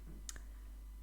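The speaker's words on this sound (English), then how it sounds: "I feel the need to make a clicking sound when I make it." A single short mouth click pops out against near silence, quick and sharp, followed by nothing else.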